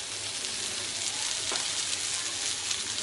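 Bangda mackerel fries on a tawa with a steady, loud, close sizzle that holds evenly throughout, with no voices.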